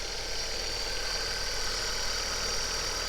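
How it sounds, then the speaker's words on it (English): Opel Zafira engine on cold start, whining from a suspect pulley or aircon pump; a steady high-pitched whine rides over a constant idle hum, close and unbroken throughout. "it's almost like a whining sort of supercharger type noise when you start it up"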